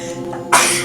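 A sudden explosive sneeze breaks out nearby over a steady background hum, loud at first and then trailing off.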